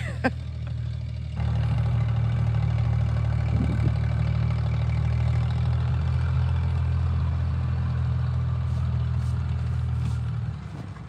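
A tractor engine runs at a country tractor pull, a low steady drone that swells louder after a brief start and holds a constant rumbling idle-like tone until near the end.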